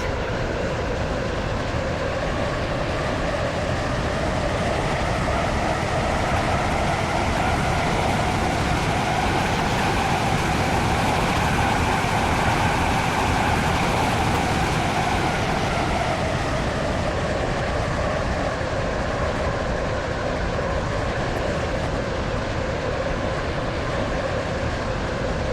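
Stepford Connect train in a video game, running toward Edgemead; a continuous loud rumble with a slowly rising and falling tone rolls on for the full length, with no voices.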